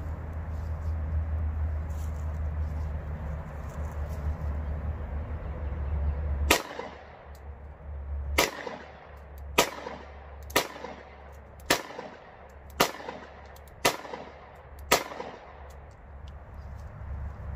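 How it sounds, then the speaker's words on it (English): Seven sharp pistol shots from a Bersa BP9CC handgun ring out one at a time, spaced about a second or two apart, loud and close over a steady low background rumble. "we're gonna put another couple rounds through this gun and get down and see if this gun's gonna function or not."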